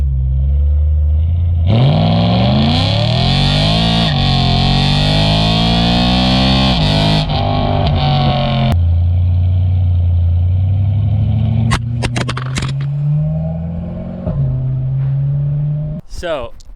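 BMW M3 running E85 fuel accelerates hard through the gears, its loud exhaust climbing in pitch, dropping at each shift, then settling to a lower drone with brief clatter and bumps near the end.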